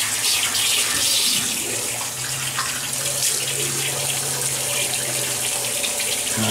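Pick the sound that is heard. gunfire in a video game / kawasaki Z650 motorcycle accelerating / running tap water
running tap water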